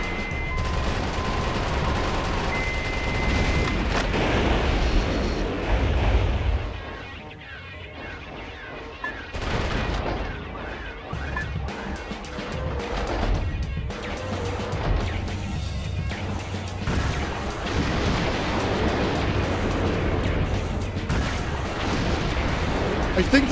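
Gunfire from the video game Metal Wolf Chaos: a dense, loud barrage of shots and crashing blasts that runs almost without a break, with a short dip partway through before the firing builds up again.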